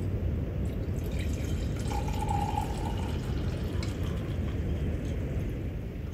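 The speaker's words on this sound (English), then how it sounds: "the solution was decanted into another beaker" A blue tetraamine copper(II) sulfate solution is decanted from one beaker into another, giving a soft trickling pour with faint drips over a constant background hiss, close and quiet.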